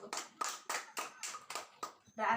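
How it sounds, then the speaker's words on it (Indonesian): Children in a classroom during a math lesson clap together in unison, about seven crisp, evenly spaced claps in a steady rhythm, fairly quiet and close. "Oke, tepuk tangan dulu."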